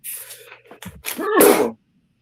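A single loud, close sneeze bursts out after a short stretch of softer sounds, ending abruptly in silence.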